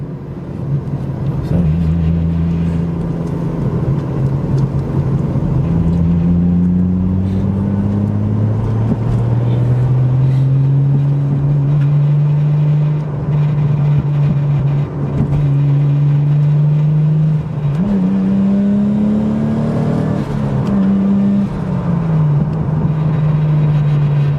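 Lexus IS200 fitted with a turbo, its engine droning loud and close as it pulls through gears, pitch climbing and dropping with each shift in a continuous run.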